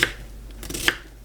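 Knife chopping a quarter of red onion on a cutting board, two or three crisp close cuts spaced apart in a quiet kitchen.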